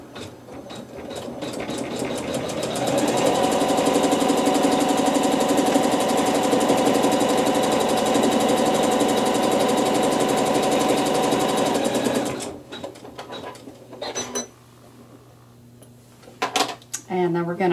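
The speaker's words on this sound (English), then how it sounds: "we're going to stitch a seam" A sewing machine stitching a fabric seam, its steady whirring motor running for several seconds before stopping, then a few clicks and handling noises.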